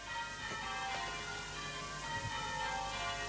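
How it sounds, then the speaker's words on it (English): Church bells ring out steadily near a humpback bridge in the countryside, a dense, continuous wash of overlapping bell tones with no pause. "our blessed bells."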